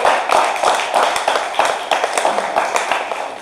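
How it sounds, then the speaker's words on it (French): A crowd claps and applauds steadily at a pre-match event for a Nice versus Strasbourg football match, a dense patter of many hands that slowly fades a little. "on va l'applaudir bien fort, s'il vous plaît"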